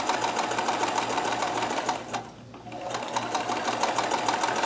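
A Kenmore 158.1914 sewing machine runs a chain stitch with a continuous, even mechanical whir and a brief slowdown midway, close and steady throughout.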